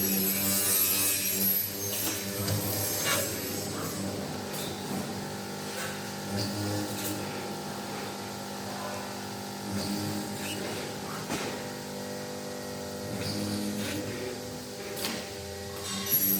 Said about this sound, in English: The CNC drilling and milling machine offers multiple machining functions, including drilling, milling, cutting